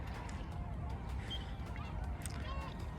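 Water birds swimming on a lake in Crângași Park, Romania, honk repeatedly over a steady, low outdoor rumble, the calls moderately distant and scattered across the scene.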